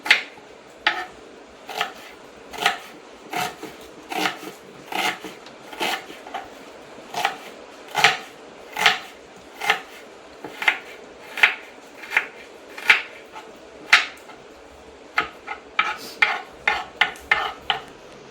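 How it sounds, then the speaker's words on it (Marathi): A knife chops a medium onion finely on a board, with sharp, steady taps repeating at a regular pace and speeding into quicker bursts near the end. The cutting sits close and clear, and nobody speaks. "बारीक कापून घ्यायचा कांदा। कांदा घ्यायचा मध्यम आकाराचा आणि बारीक कापून घ्यायचा चांगला।"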